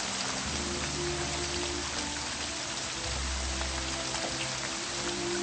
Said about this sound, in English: What, in this rain?